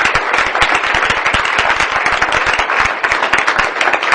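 Loud, dense applause from a crowd, sustained clapping throughout without pause.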